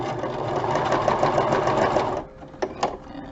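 A sewing machine stitches a fabric tag in a close, loud, steady whir for about two seconds, then stops, followed by a couple of sharp mechanical clicks.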